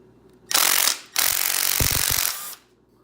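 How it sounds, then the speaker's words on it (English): A power nut driver spins out the oil filter cover bolts on a motorcycle or dirt bike, giving two close buzzing bursts, a short one then a longer one, with a quick rattling clatter near the end of the second. "Put the nut driver in. Put it on there."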